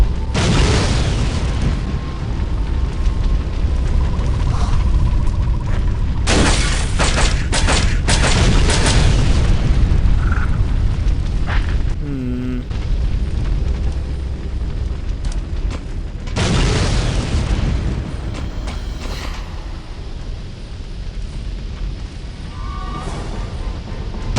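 Constant explosions in the game AVP2: Primal Hunt, loud heavy booms and crashes piling on one another over a dense rumbling bed for the whole stretch.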